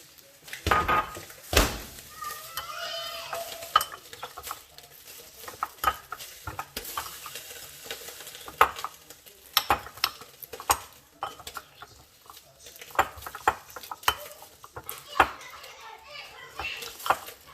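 Cooked food is stirred in a pot with a spoon, giving repeated scraping and knocking strokes against the metal, a low sizzle underneath, and children's voices and chatter in the background.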